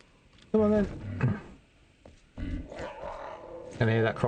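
Dog growling and whining in the video game Enshrouded, with two short, loud bursts of it, and someone talking over the game sounds in between.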